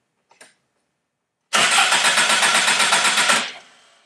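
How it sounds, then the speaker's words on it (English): A car engine cranks with a rapid, rhythmic starter whir for about two seconds, with the battery-to-starter wire clamped for testing, then stops and fades; brief faint clicks come just before. "now let's crank the engine."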